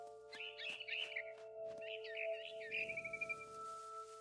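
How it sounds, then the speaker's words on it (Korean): Barn swallows chirp outside a window in the video game What Remains of Edith Finch, quick bright twittering phrases repeating close by over a faint steady background tone. "Then I heard chirping outside my window."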